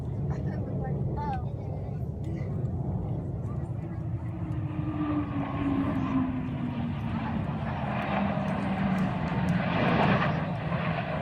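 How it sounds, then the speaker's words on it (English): Airplanes pass overhead in Alabama, a steady engine drone that slowly shifts in pitch beneath nearby talking and ambient noise. "There are 2 airplanes there, by the way."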